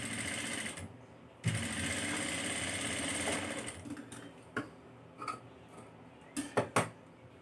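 A sewing machine stitches the armhole of a baby frock, running in a loud continuous whir before slowing into several short bursts and clicks near the end.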